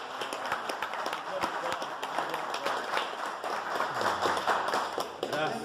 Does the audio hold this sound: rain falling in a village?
no